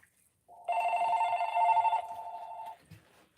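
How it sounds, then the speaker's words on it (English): A telephone rings in a toy shop, a steady electronic trill that starts abruptly, sounds as one long ring of about two seconds, and fades before stopping, close and loud with no talk over it. "Another phone call."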